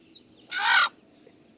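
A desi hen gives a single short, raspy cluck up close, followed by quiet and the start of another call at the very end.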